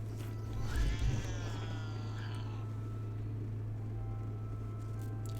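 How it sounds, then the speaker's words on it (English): A cat named His Majesty in Baldur's Gate 3 gives one drawn-out, wavering meow near the start, heard over a steady low hum and background ambience, then fades into quiet. "It's a cat named His Majesty."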